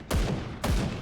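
Two loud gunshots in the video game Grim Dawn, each a sharp, booming blast with a short rumbling tail, spaced about half a second apart, close and alone.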